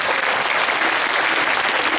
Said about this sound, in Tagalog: Palakpakan natin ang Panginoon Diyos sa buhay.